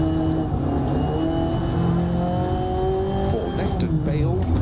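A rally car in DiRT Rally 2.0 drones loudly through its engine, the pitch easing and shifting as it brakes for a corner, with faint tire scrabble and no talk.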